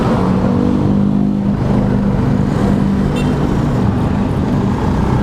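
Motorbike engine held at high revs with the throttle opened, a loud, steady, close-up drone running the whole time with a low harmonic hum and no talk.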